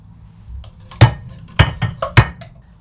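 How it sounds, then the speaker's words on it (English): A few sharp metallic clanks and scrapes as cooked pork is tipped from a pan into a pie dish, three distinct loud knocks with softer scraping in between, close up. "Decant it into your pie dish"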